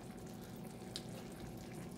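Chicken broth pours into a cast iron pan as a soft, steady liquid rush and faint sizzle, quiet and continuous with one brief splash, heard without talk.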